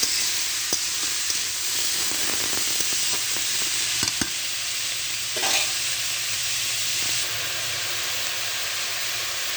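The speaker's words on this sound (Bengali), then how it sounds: "এখন 2 মিনিট আমি নেড়ে চেড়ে নিয়েছি।" Ash gourd with chopped onion and garlic frying in oil, giving a continuous hiss and sizzle with scattered spatula taps and stirs, close and steady throughout, with no speech.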